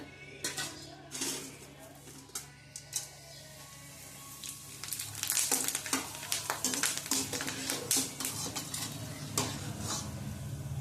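Hot oil sizzling as cluster beans fry, with frequent scraping and clinking of a utensil in the pan, growing busier partway through.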